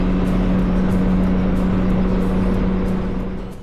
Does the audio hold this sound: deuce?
yes